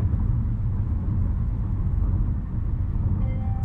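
Steady tire roar and road rumble inside a 2024 GAC Empow (GB) cruising at 90 km/h, a dense, constant low drone filling the cabin with no voices.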